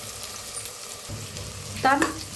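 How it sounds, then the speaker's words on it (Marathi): Onion and green chili with ginger-garlic paste frying in a pan for aloo matar sabzi, a steady close sizzle with a brief scrape and a sharper burst of crackle near the end. "अद्रक लसूणची पेस्ट टाकूया"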